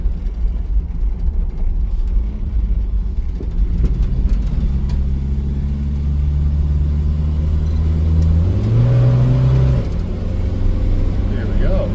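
A 1978 Datsun B210's engine runs with a low, steady rumble near the microphone, then rises in pitch as it revs, while someone talks over it.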